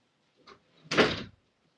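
Indoor door swung shut with a short scrape, then a firm, loud thud of the slam, a single close impact that quickly fades.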